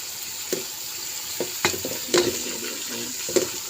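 Onion, garlic and ginger fry in a pan with a steady close sizzle, broken by a few scraping stirs and clinks of a utensil against the pan.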